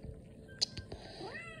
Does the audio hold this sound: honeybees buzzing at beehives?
no